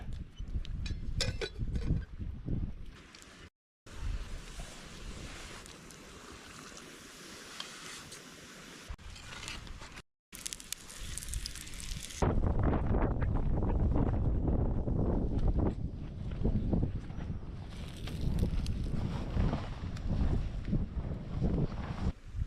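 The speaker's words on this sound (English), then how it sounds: "that fucking wind" Strong wind blows outdoors in below-freezing cold and gusts hard against the microphone, a loud low roar that comes and goes, cut by two brief dropouts and growing stronger toward the end.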